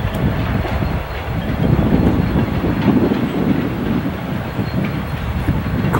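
A passing freight train of tank cars, hoppers and coil cars, heard from a house at evening: a steady, loud rumble of rolling wagons with faint clickety-clack, continuous for the whole stretch.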